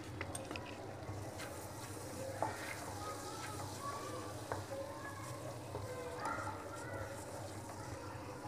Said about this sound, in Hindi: मैदा को लो फ्लेम पर हल्का सा भूनना है